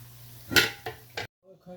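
Potato bites frying in a pan over heat, with a few loud bursts of sizzling and stirring scrapes over about a second before the sound cuts out briefly, then faint voice-like tones.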